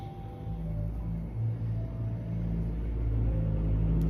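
A car rumbles steadily past at moderate distance, its low engine drone swelling and easing over a few seconds; the vehicle may be a Mercedes G-Wagon.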